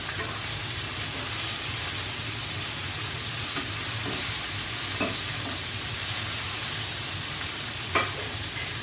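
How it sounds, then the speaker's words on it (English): Onions with bits of bella mushroom sizzle and fry steadily in a pan, a constant close crackle with a few sharp clinks of a utensil stirring against the pan. "I'm sauteing my my onions"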